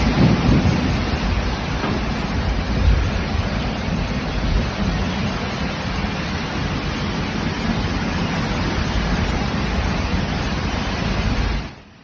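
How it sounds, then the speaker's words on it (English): Heavy thunderstorm over Guangdong's Pearl River Delta: dense, steady roar of downpour with low rumbling thunder swelling near the start, continuous and loud for about twelve seconds before cutting off abruptly. "producing repeated cycles of heavy downpours, lightning strikes, and strong wind bursts."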